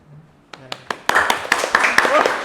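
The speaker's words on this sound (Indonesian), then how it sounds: "banyak ya tepuk tangan ya" Scattered hand claps from a small audience break out one by one, then thicken into a short burst of applause, with people talking and chatting over it at an investing podcast recording.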